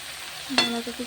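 Shredded cabbage drops into hot oil and spice paste in a pan for a vegetarian curry, giving a sudden sizzling hiss and a brief stir-scrape that quickly settles.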